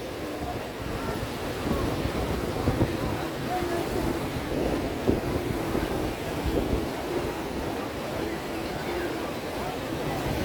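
Sea waves breaking at Udaipur beach near Digha, a constant loud surf wash mixed with wind buffeting, with people talking over it.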